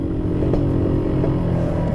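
A Yamaha RX-King motorcycle fitted with a replacement exhaust revs nearby, a loud, rough, continuous engine roar with a rattling exhaust note that holds steady throughout.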